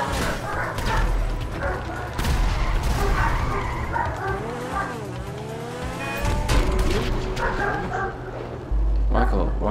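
In Grand Theft Auto 5, a dog barks repeatedly in short bursts amid car engine noise, gunfire-like thumps and busy game sound, while players talk over it.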